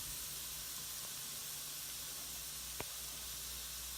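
Onions cooking and caramelizing in a pan give off a faint, steady hiss with a single small click partway through.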